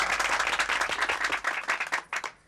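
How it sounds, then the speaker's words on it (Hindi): A small group claps in quick, loose applause for a couple of seconds before it tapers off, with an indoor sitcom setting and no talk over it. "तालियां।"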